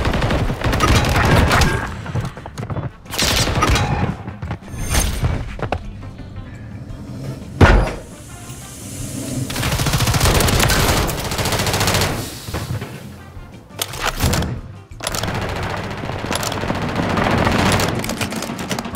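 Repeated bursts of automatic gunfire from the video game Call of Duty MW3, loud and close, come in clustered volleys across the whole stretch with short gaps, mixed with game effects.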